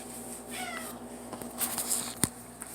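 A domestic cat gives a short meow indoors amid low room noise and a few faint bumps, fairly quiet and close.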